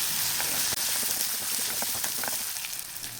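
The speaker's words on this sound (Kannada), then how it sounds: "ಈಗ ಚೆನ್ನಾಗಿ ಇದನ್ನು ಎಣ್ಣೆ ಜೊತೆಯಲ್ಲಿ ಹುರ್ಕೊಳ್ಳೋಣ" Chopped tomato and poha fry in hot oil for Uttar Karnataka-style tempered avalakki, making a close, steady sizzle with scattered crackles and faint stirring scrapes.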